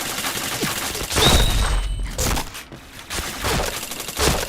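Video game gunfire crackles in short bursts and volleys, loud and close, with brief lulls between the shots.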